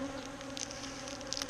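Carniolan and Buckfast honey bees hum in a continuous low drone at an open hive, with a few brief louder passes of individual bees close by.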